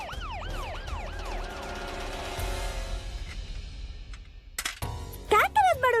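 Police car siren wails in rising and falling sweeps, loud and close, then fades out; a few clinks and brief voices follow near the end.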